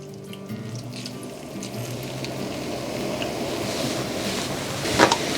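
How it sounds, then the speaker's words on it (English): Half a cup of Worcestershire sauce pours steadily into a hot pan with melted butter, a continuous wet hiss and bubbling sizzle, fairly close and even throughout. "I'm going to pour in a half a cup of Worcestershire."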